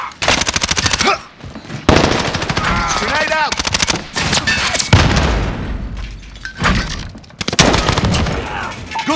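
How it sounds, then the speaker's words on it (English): Rapid bursts of automatic gunfire crackle almost continuously through a Call of Duty: Modern Warfare team deathmatch, loud and close, with brief gaps and a few heavier booms, while in-game voice callouts sound underneath. "I'm taking fire."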